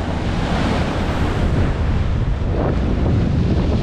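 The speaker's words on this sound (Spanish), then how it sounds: "Cómo estamos pescando, hace mucho viento." Strong wind buffets the microphone over crashing surf on a sea shore during surfcasting fishing, a loud, continuous broadband roar with no speech.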